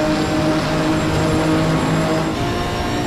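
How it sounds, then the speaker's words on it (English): A race car engine in Assetto Corsa Competizione drones at steady high revs with a constant harmonic whine and no gear changes, loud and close throughout. "Let's listen to that reverb from the engine."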